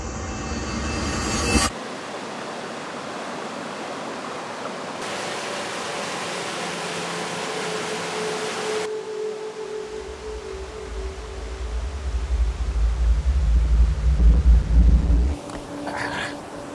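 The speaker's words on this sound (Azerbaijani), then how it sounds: "biz gəlib bax dediyimiz o Bum şəlaləsinə çatdıq" The Bum waterfall in Azerbaijan's Hirkan forests roars as a continuous broadband rush of falling water, with a deeper low rumble swelling in the later part before easing.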